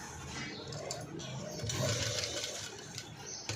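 A sewing machine runs steadily while stitching a cut work design on a garment front, a soft, continuous whirring hum at low level with no pauses.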